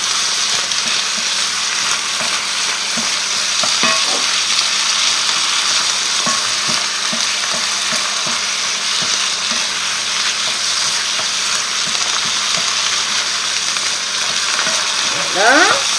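Chicken curry frying in a pan with a steady broadband sizzle throughout, interrupted by light scraping and clinking strokes as the pieces are stirred, the last stir near the end slightly louder.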